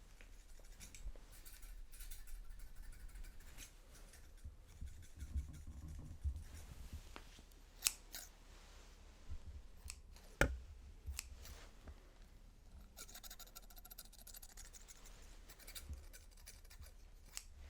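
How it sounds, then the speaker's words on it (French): Scissors snip repeatedly at close range, crisp quiet cuts scattered irregularly over a faint, hushed background. "alors je fais des petits bouts de ciseaux."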